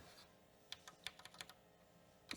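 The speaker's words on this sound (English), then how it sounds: "I'm trying to press delete on the keyboard" Keyboard of a rare Bosch Rexroth PG4 industrial PLC computer with an 80286 processor, giving a quick run of faint, crisp key clicks in an irregular rhythm, with no voices.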